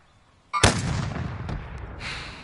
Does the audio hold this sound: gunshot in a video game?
yes